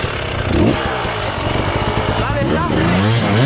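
An enduro motorcycle engine buzzes and revs nearby, rising and falling in pitch, while people talk loudly over it.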